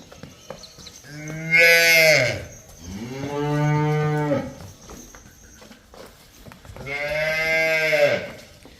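A cow on a dairy farm moos three times, loud and close, each long call separated by a short pause.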